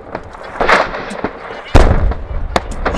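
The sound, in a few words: artillery hit on KRAZ truck loaded with ammunition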